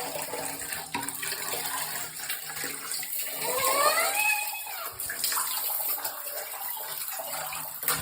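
Warm water splashes and streams steadily over a doll during a child's play bath, a continuous wet pouring rush at moderate level that swells slightly midway, with no voices.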